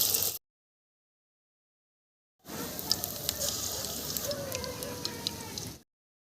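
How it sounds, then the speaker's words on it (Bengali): Vegetable pakoras deep-frying in hot oil give a steady crackling sizzle with small pops, starting after a brief pause and running for about three seconds before cutting off. "সেম প্রসেসে আমি বাকি পকোড়াগুলোকেও ভেজে নেব।"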